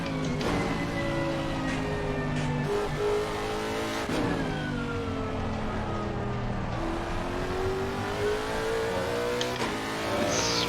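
A race car engine in the racing game Assetto Corsa Competizione on the Nürburgring screams through repeated rising revs and sharp downshift drops, loud and continuous throughout.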